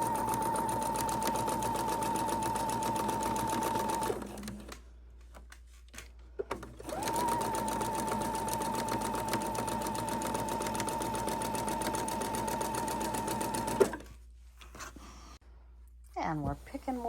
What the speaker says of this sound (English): we're going to chain stitch